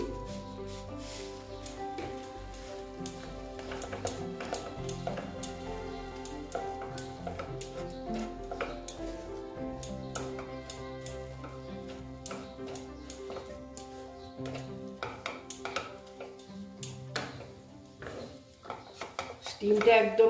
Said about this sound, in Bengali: এবার আমি এটাকে ভালো মতন নেড়ে চেড়ে নেব